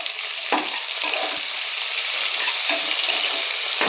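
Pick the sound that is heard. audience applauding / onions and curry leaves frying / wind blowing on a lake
onions and curry leaves frying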